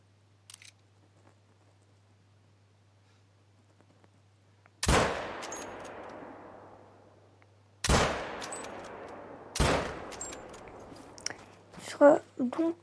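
Loud rifle shots ring out during a driven wild boar hunt in Spain: three sharp blasts with long echoing decays, each separated by a few seconds, set against a quiet outdoor backdrop with faint rustling afterward.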